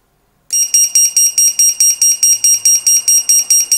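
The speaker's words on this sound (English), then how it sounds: "That's the buzzer." A lost-drone buzzer on an Eachine Wizard quadcopter beeps loudly and rapidly in a steady repeating pattern, about four beeps per second, after a brief silence.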